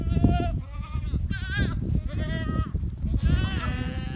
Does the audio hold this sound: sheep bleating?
yes